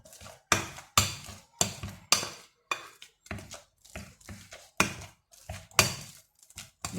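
Seasoned mashed potato with pepper being mixed and pressed in a bowl, producing a regular series of close, sharp thuds and clacks separated by short silences.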